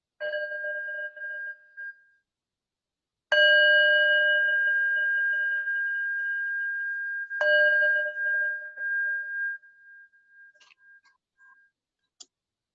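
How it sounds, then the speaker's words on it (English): A meditation bell rings out three times, each strike clear and sustained, humming away slowly into silence between rings. "I'll ring the bell once to start us, then I'll ring it to end."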